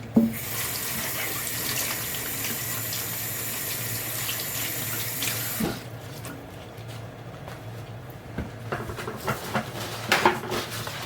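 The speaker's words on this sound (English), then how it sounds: "Just going to give this a rinse." Vegetables rinsed under a running kitchen tap, a steady loud rush of water for about six seconds, then the flow stops and scattered handling clatters and splashes at the sink follow.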